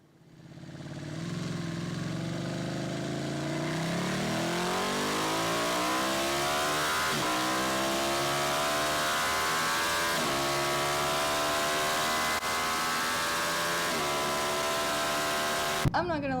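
A Ducati 899 Panigale motorcycle accelerates hard up a freeway entry ramp, its engine note climbing and dropping at each upshift, loud and close throughout.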